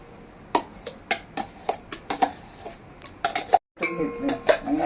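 Freshly ground urad dal is scraped out of a grinder jar into a cooking pot, heard as a series of close clinks and knocks of a spoon against metal with brief scraping, followed by a short silence and more rattling.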